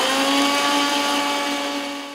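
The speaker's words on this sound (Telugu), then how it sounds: "ఇప్పుడు ఈ మిక్సీకి చికెన్ లోకి వేసే పొడి ఇప్పుడు రెడీ చేస్తున్నారు." A mixie grinder whirs steadily while grinding spice powder for chicken, a loud, even motor whine that holds for a couple of seconds before starting to taper off.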